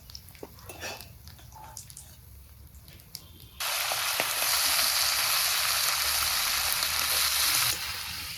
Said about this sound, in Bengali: এখন মাছ ভাজা নামিয়েই খালি জিরে ফোড়নে সবজি বসিয়ে দিব